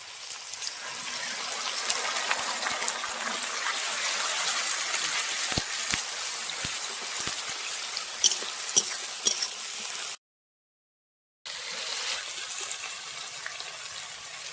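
Onion paste and garlic fry in a pan, a soft steady sizzle with sharp spoon clicks and scrapes as they are stirred, then a short silent gap before the quiet sizzling resumes.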